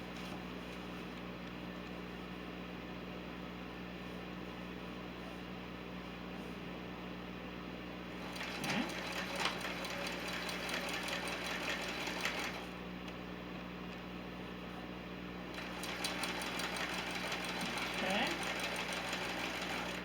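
A sewing machine stitches quilt blocks into rows with a steady, close mechanical hum and rapid needle chatter running throughout, slightly louder in two stretches; a voice talks faintly over it.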